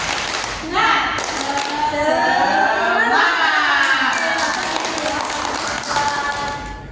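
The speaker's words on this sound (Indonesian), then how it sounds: "Tepuk semangat." A group of schoolchildren gives a rhythmic spirit clap at an Indonesian school event on positive culture. Quick patterned claps mix with excited voices and shouting across several seconds.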